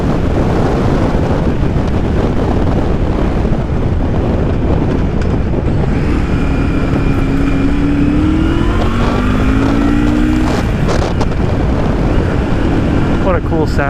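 A 1982 Yamaha Virago motorcycle cruising steadily on the road, its engine a constant low drone buried under heavy wind buffeting throughout, with a faint rising engine tone emerging briefly midway.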